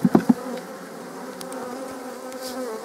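Honeybees buzz around an open beehive during a supersedure with two queens, a steady hum with a few brief louder thumps at the start.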